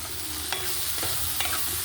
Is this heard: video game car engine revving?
no